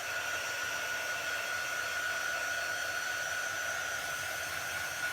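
A hair dryer blows steadily and fairly close on a chalk-paste Christmas sign, a constant whooshing airflow with a faint whine and no talking.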